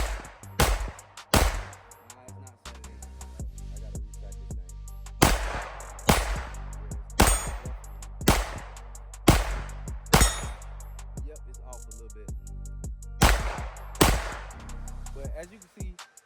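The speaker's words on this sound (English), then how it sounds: "let's go ahead and get some shots in. I'm gonna start off on some steel" A Dagger pistol fitted with a compensator fires at steel targets, giving loud, sharp gunshots in irregular pairs and clusters, with metallic ringing and echo between shots and no talking.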